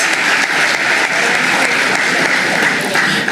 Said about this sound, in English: Let's give ourselves a thunderous round of applause as we celebrate this ending.